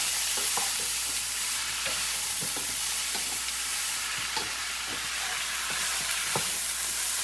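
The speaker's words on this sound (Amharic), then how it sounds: "አሁን መጀመሪያ ካሮቱ እና ቀይ ሽንኩርት ካሮትና ቀይ ሽንኩርት እናስገባለን።" Carrots and onions fry in a pan with a steady, close sizzle, broken by the occasional soft click of stirring, for a chicken and rice dish. There is no talk.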